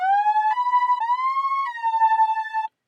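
Reverb-heavy synth lead from a Logic ES2 synthesizer with a soft attack and short release, a loud sustained tone stepping through four held notes and then cutting off cleanly.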